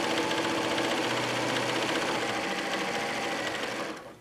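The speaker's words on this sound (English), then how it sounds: "Turn the corner, and I'm going to stitch" A sewing machine stitches fabric pages for a cloth book, running in a fast, steady mechanical whir close by. It slows and stops right at the end.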